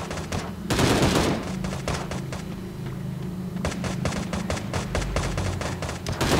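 Automatic gunfire in the Sausage Man video game, with loud rapid bursts of shots repeating in quick rhythmic clusters throughout and a heavier blast near the start.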